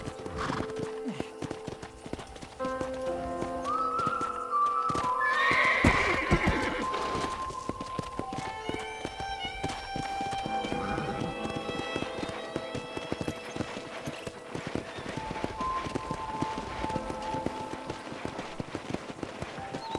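In the video game Red Dead Redemption, horse hooves clip-clop steadily alongside a neighing whinny, with a busy layered ambience and music-like tones throughout.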